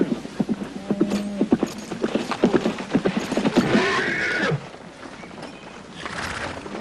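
A horse comes back riderless near a creek cabin, its hooves clip-clopping in a quick uneven rhythm up close, with a whinny cutting in partway through, then quieter shuffling.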